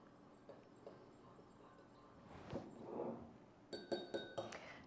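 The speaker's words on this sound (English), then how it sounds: "Let's give it a stir." A spoon clinks against a glass while stirring a lime cold remedy drink, quiet swirling followed by a quick run of bright taps near the end.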